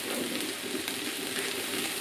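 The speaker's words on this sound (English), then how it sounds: "heat up some oil in a big frying pan and add the onion and let that cook gently for about 5 minutes without browning" Onion cooking gently in oil in a big frying pan, giving a soft, steady sizzle that runs continuously without any talk.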